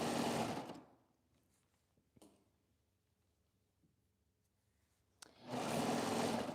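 A sewing machine used for shearing runs in two loud bursts, about a second at the start and again at the end, with quiet room tone and a couple of faint clicks between.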